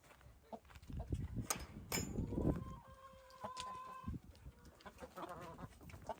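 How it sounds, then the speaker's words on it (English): Rooster clucks and squawks in short bursts amid rustling and scratching nearby, with a few louder calls scattered through. "Michael Jackson's gonna kill that rooster"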